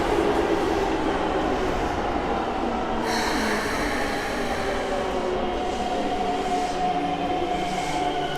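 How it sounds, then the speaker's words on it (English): A train rumbles steadily into a station in Tokyo, with a hissing brake release and a faint squeal of wheels over the continuous rolling noise. "A train coming in."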